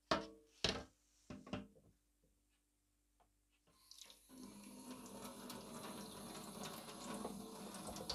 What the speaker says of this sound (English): I'm just gonna rinse the back part with hot water.